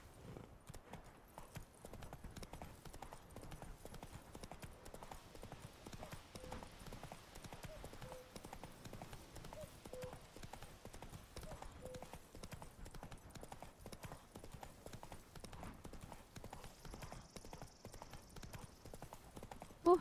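A horse gallops in The Witcher 3 video game, its hooves beating a steady, rapid clip-clop rhythm that runs unbroken throughout at a fairly low level.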